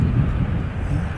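An airplane touching down on a landing, heard as a steady, broad low roar of engine and rushing air that holds at an even level throughout with no clear voices.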